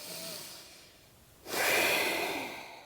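Deep, audible breaths during a yoga squat (malasana): a long, soft breath that fades, then a stronger, louder rushing inhale or exhale, close to the microphone and without talk.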